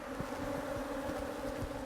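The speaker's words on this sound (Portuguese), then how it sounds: "Abelha, muita abelha" Many honeybees buzz around hives on a bee farm's apiary, a dense, steady drone that holds without a break.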